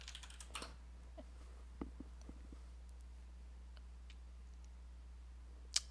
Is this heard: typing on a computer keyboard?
yes